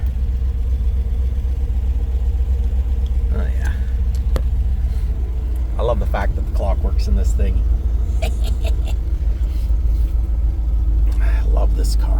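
A classic car's engine idles in a steady low rumble after starting, heard from inside the car, with a person talking over it and occasional clicks and knocks.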